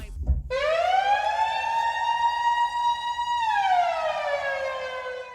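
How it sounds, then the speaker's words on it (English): A rising and falling siren wail sampled in a song, with strong harmonics, loud and sustained, sweeping up and then dipping, over a low beat at the start. "It has a siren sound it uses from another song."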